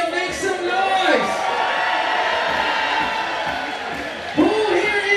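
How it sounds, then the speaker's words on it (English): Crowd cheering and whooping at a 3x3 basketball game, a broad steady roar under an announcer's amplified voice, with a brief swell near the end. "Who here is cheering for Team India? Make some noise."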